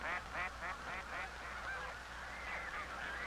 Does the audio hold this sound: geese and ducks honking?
yes